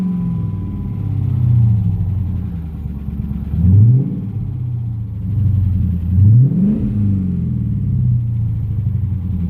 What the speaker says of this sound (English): It's running. It's making a little racket,